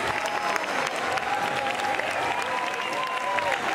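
Strong crowd applause fills a square during a Barcelona festival parade with giants, the Sant Jordi cobla on stage, dense and steady throughout with a faint tonal line above it.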